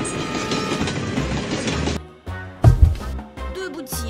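A toy train in a children's cartoon chugs with a clickety-clack rhythm, first under bright background music, then alone in short bursts after the music cuts off.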